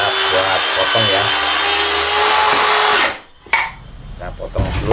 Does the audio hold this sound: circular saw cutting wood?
yes